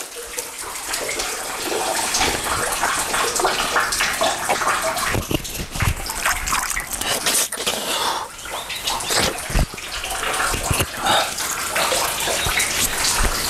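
Water pouring steadily into a 200-litre barrel from a village well on a hot day, a continuous close splashing gush that fills the whole clip.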